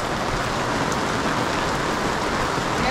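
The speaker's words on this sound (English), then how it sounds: "It's cold though when it rains." Rain pours steadily onto a boat out on the water, a dense, loud, even hiss of drops close by with no pauses.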